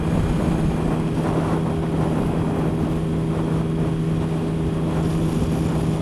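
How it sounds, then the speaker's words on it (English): A Triumph Sprint 1050 motorcycle with a Trident exhaust drones steadily at cruising speed, a loud continuous engine hum mixed with heavy wind rush, with no break or change throughout. "This exhaust sounds sweet."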